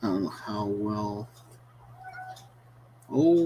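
A house cat meows repeatedly indoors, drawn-out tonal cries close by in two bursts separated by a quieter pause, with a steady low hum underneath.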